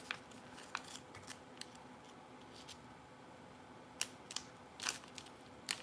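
Scissors snip through the last small piece of paper for a mini book, giving a few faint scattered clicks and crisp cuts close by in a quiet room.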